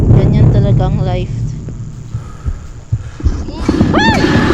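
Heartbeat sound effect in a Roblox horror game, a low throbbing pulse running under the whole stretch alongside game hum, with a person talking over it and a rising whistle-like tone near the end.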